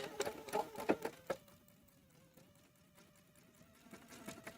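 Sewing machine stitching around the edge of a fabric Easter egg at about a quarter-inch seam allowance, a burst of close, loud mechanical clatter early on that settles into a quieter steady hum, with no talking.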